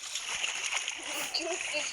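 In a Granny horror video game, a character splashes into water with a brief burst of splattering and sloshing, while someone talks over it.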